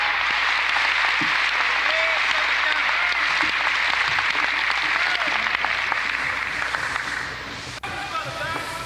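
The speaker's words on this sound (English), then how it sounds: "let's bring him on with a warm round of applause, Brother Minister Donald Muhammad." An audience claps steadily to welcome a speaker, a dense, sustained round of applause that thins slightly toward the end, with a few voices mixed into the crowd.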